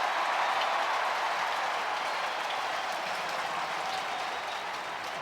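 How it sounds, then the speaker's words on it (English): A baseball stadium crowd cheers and applauds during the ninth inning of a Giants versus Dodgers game, a dense, steady wash of clapping and roaring that fills the whole stretch without any break. "The crowd here starting to get on their feet and cheer for outs."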